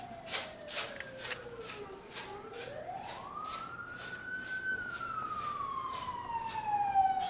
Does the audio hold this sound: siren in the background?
yes